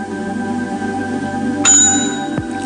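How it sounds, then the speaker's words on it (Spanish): A sharp electronic ding with a ringing high tone rises over steady background hum, followed by a brief falling chirp. "uno de los detectores de Henry suena primero"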